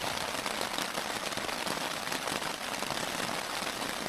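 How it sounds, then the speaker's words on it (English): Heavy rain drums steadily and densely on a Fjallraven Abisko Light 1 tent overhead, a constant close hiss of drops with no pauses. "it's just started raining now. Hammering down, listen to this."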